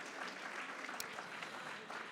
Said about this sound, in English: Let's give another round of applause for Brian E. Harper II.